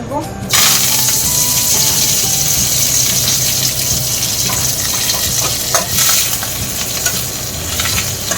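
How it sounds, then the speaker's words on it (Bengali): Raisins and almonds fry lightly in hot oil for a semolina snack, with a loud, continuous sizzle and bubbling hiss and occasional stirring clatter close by. "হালকা করে কিশমিশগুলো একটু ভেজে নেব"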